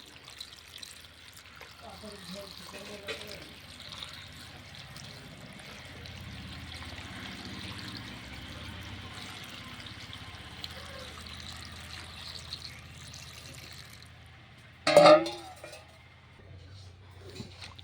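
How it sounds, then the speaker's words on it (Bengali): Water is poured into a pot to boil homemade potato papad, a soft continuous trickle and splash with a sharp metallic clank near the end. "পাপড় সিদ্ধ করার জন্য এখন জল দেওয়া হচ্ছে"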